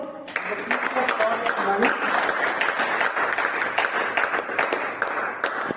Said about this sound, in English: Let's give a big round of applause for Pradeepa.